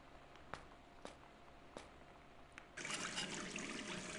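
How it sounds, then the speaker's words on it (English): Water runs from a bathroom faucet in the video game Gone Home, a soft steady trickle that swells into a louder rushing flow partway through, with a few faint clicks before it. "let's keep the faucet running."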